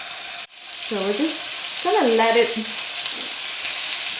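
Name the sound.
ribs sizzling in hot pan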